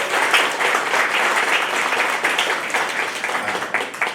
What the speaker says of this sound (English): Let's have a round of applause for Tony.